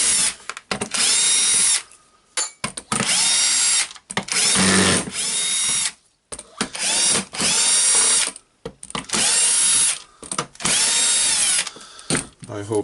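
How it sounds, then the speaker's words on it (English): A power drill runs in repeated bursts, whirring and ratcheting as it unscrews screws from a DeWalt DCS331 jigsaw, loud and close with short pauses between bursts. "We need just to unscrew all the screws."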